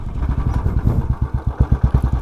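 A motorcycle engine thumps rhythmically while riding, with a low, pulsing exhaust beat that speeds up slightly, loud and close with some wind noise.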